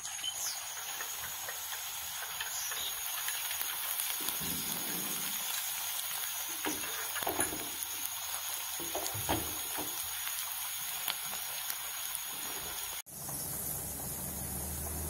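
Onions frying to golden brown in a pan, giving a steady close hiss and sizzle that holds at an even level for most of the time before it dips briefly near the end.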